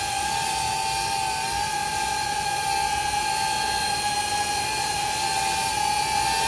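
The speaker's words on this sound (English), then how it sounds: "Now if you just bring the drone back down to ground level, as you can see, if I just shut up for a second so you can hear the sound." DJI Avata 360 drone hovering near ground level, a loud, steady high-pitched whine of spinning propellers heard up close with no talk.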